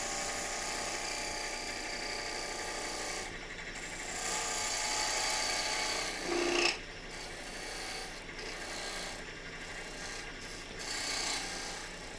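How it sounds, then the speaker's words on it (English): A parting tool on a wood lathe cuts a tenon into a vase blank made from a thrift store glass project, giving a steady broadband rasping scrape with brief pauses and one sharp squeal midway, close and loud, no talk. "let's switch over to a parting tool, and we will make the tenon down here"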